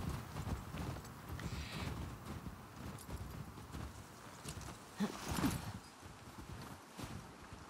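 Horse hooves clip-clopping at a steady walking pace in The Last of Us Part II, moderately close over game ambience, with a brief louder burst of movement near the end.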